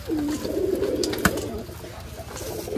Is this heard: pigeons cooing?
yes